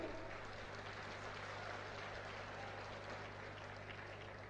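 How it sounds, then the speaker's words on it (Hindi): Steady, dense audience applause at a political rally for a Rahul Gandhi speech, a continuous crowd of clapping hands holding an even loudness throughout without a break. "बजाइए ताली।"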